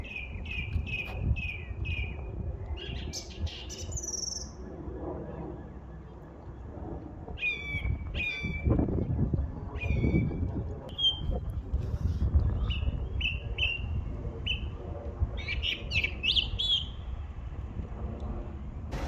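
A bird sings outdoors in Wigan, running through varied chirps, whistles and mimicked calls in short repeated phrases over a low rumble of background noise, fairly clear but not close.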